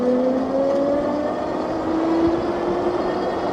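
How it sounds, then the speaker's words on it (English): A SEEMOON SM3 electric mountain bike with a single motor on throttle only accelerates from rest, its motor giving a steady whine that climbs gradually in pitch over a constant rushing wind and road noise. "Just doing an acceleration run, 0 to 20 here."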